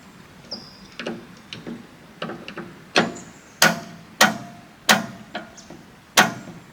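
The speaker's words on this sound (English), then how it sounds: "hit the starter with a hammer." A hammer strikes a car starter motor on a Mustang project car, about a dozen sharp metallic knocks at an irregular pace, some light taps and some heavier blows, close by with no talking.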